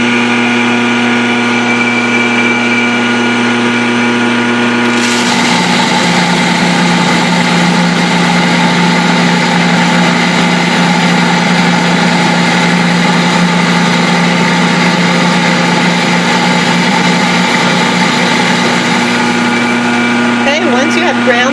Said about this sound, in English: we can go ahead and start grinding our grains